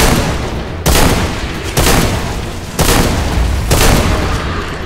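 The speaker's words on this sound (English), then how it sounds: "It's not this gun that we're using." Four heavy, booming gunshots from a firearm in Deadfall Adventures, each a sharp loud blast with a long decaying tail, spaced roughly a second apart.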